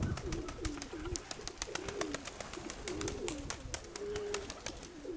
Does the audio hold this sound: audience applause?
no